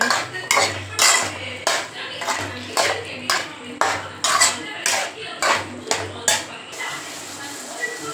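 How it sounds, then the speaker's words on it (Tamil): Metal utensil scraping and clanking against a pan while stirring chickpeas for chana masala, in a steady rhythm of repeated strokes, close and fairly loud, with no talking. "இப்போ சன்னா போட்டுக்கலாம். போட்டு அதையும் சேர்த்து நல்லா மிக்ஸ் பண்ணுங்க."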